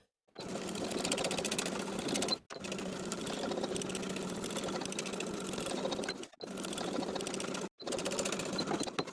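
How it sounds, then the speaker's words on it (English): A sewing machine runs a zigzag topstitch on stretch denim jeans, whirring steadily in four long bursts separated by brief pauses, close and clear with no voices. "I'm going to top stitch with a zigzag stitch right underneath the main seam"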